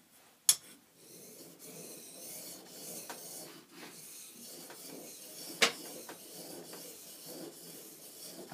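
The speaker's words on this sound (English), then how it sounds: "Now I'm going to touch it on a soft Arkansas stone." A plane iron honed on a soft Arkansas stone, giving quiet, close rubbing strokes in a slow repeating rhythm with a couple of sharp clicks.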